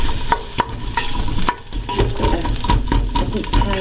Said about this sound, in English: Kick off with the onions into the pan they go.